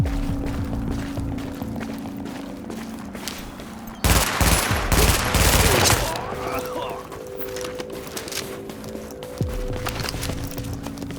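Gunfire in The Division video game: a dense burst of shots lasting about two seconds mid-clip, with quieter game noise and voices before and after.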